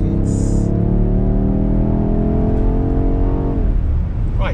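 A BMW X5M Competition in carbon black accelerates hard, its engine revving loudly in a rising, continuous roar close up, then dropping off abruptly near the end.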